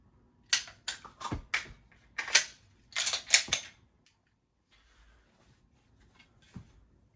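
Glock pistol being handled during a dry fire session: a series of sharp mechanical clacks and clicks from slide racking and trigger work, clustered in quick bursts, close and loud, then a quiet stretch with one last faint click.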